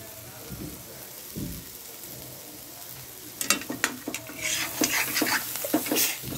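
Goan style egg bhurji being stirred in a sizzling pan with lemon added: a soft frying hiss at first, then a busy run of scraping, clattering spatula strokes over the crackle of the cooking eggs.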